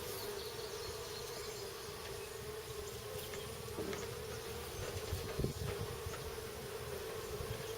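Honey bees drone steadily around an opened beehive during a queen check, a continuous close buzzing hum that stays even throughout with a few faint knocks, quiet and without talk.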